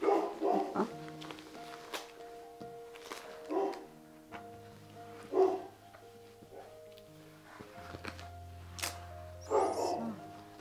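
A small dog barks indoors in repeated short bursts of yapping, spaced through the scene at moderate distance, over a steady low electrical hum and faint room noise.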